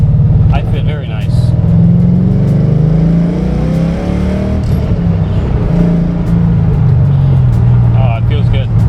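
An LS2-powered Datsun 280Z accelerates from inside the cabin, its engine droning loud and steady with rising then easing pitch, while a person talks over it.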